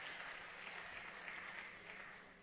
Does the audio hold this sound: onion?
no